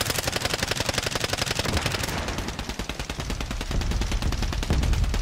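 Rapid automatic gunfire from the Warzone video game is aimed at a helicopter. Dense, loud machine-gun bursts rattle almost continuously, with a brief change in texture midway.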